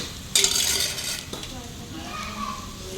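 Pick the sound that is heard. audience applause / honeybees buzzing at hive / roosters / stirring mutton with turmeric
stirring mutton with turmeric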